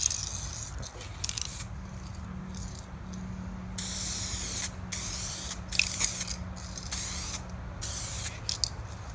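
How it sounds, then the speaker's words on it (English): Spray gun laying 2K clear coat onto a car headlight lens, heard as several close, loud bursts of airy hiss that start and stop in separate passes over a steady low background hum. "But now we're going to basically hit it with the 2K Clear."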